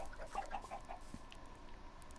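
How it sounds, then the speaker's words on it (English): A Minecraft chicken clucks a few short times, faint and close, against a quiet game background. "A baby chicken that got out."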